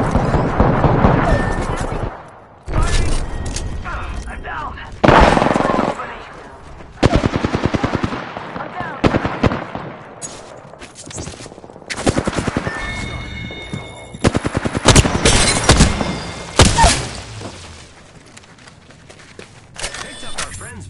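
Bursts of automatic gunfire in the Apex Legends battle royale game, loud rapid volleys in several separated bursts with short pauses between, with a player talking over parts of it.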